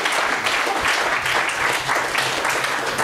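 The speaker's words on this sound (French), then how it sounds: "Nous applaudissons encore très fort." An audience at a political campaign event for a party candidate applauds steadily, dense broadband clapping sustained at an even loudness throughout without pause.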